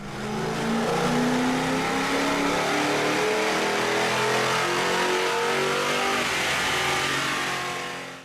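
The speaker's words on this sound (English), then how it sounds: "Now let's see what these BBK headers do on the dyno." A 2005–2010 Mustang GT V8 fitted with BBK polished shorty headers, stock midpipe and mufflers roars on a dyno, climbing steadily through one long loud pull in rising pitch before backing off.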